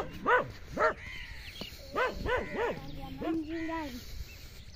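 A dog at a rural farmstead with goats barks and yips in short, close bursts, followed by a drawn-out whining howl.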